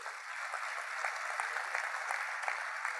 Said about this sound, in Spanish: Así que fuerte el aplauso, por favor.